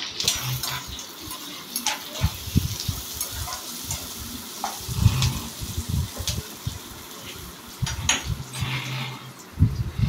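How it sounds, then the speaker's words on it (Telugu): Cumin seeds (jeera) frying in a pan for jeera rice, a steady close sizzle broken by scraping stirring strokes and occasional sharp clinks of a utensil against the pan. "వేయించుకోవాలి ఫస్ట్ జీరాని"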